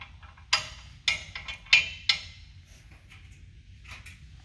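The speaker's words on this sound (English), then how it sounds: "We'll set the hitch plate back on there. Put the clevis pins back in." A PullRite SuperGlide hitch plate is set back in place and clevis pins are slid in, giving four sharp metallic clanks over the first two seconds, then a few fainter clicks and taps, close by with no talking.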